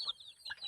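Native chickens and a turkey area at a rural Philippine backyard near a bahay kubo, chickens clucking softly, two brief high calls over quiet surroundings.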